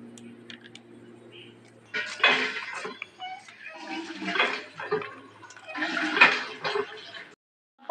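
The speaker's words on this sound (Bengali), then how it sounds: "জলে ধুয়ে নিয়েছি, আর দেখো কতটা সুন্দর পরিষ্কার লাগছে" Cut banana flower washed in water, with splashing and the clatter of a bowl in three separate bursts after a quiet stretch, close and fairly loud.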